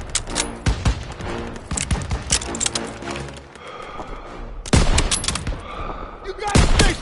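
Gunfire in Call of Duty WWII: dense bursts of rifle and machine-gun shots crackle in rapid succession, loud and close, with heavier booming volleys near the end and battle chatter mixed in.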